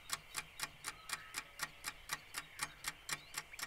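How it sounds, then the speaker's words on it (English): An alarm clock ticks steadily and evenly, about three crisp ticks a second, close and clear against a quiet background with no talking. "my alarm clock is one of my favourite things. It makes a great ticking noise."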